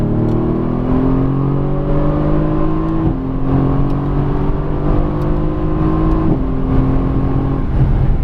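A 2017 Mercedes-AMG GT S accelerates hard out of a corner on a race track, its engine note climbing steadily, with upshifts cutting the pitch around three and six seconds; loud, close, from inside the car.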